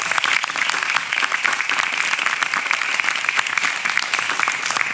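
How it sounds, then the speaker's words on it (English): Concert audience breaks into sustained applause after a flute and violin performance, dense steady clapping filling the room from start to finish with no voices over it. "if we could have a round of applause"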